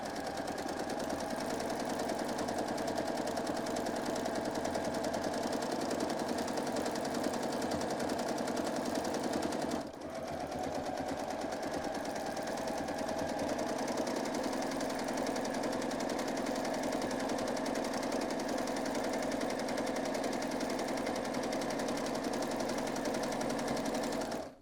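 A sewing machine running continuously at an even speed while free-motion quilting letter shapes into a fabric border, a steady mechanical whir that holds for the full length with one brief dip partway through.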